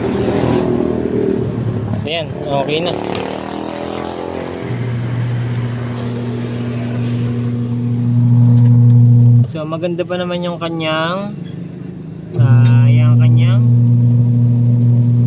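A washing machine motor hums steadily after a timer switch replacement, a low continuous drone with a belt-driven whirr that grows louder at times, while someone talks over it.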